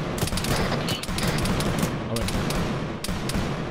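Video game machine gun laying down suppressing fire in rapid crackling bursts with distant thuds, loud and continuous, while voices speak over it.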